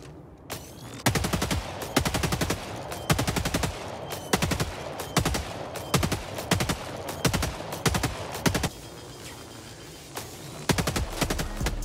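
The LAS-16 Sickle laser rifle firing in the video game Helldivers 2: rapid bursts of crisp shots in repeated strings, loud and close, with short pauses between volleys.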